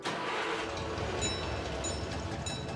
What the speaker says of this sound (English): They've got the train ride running again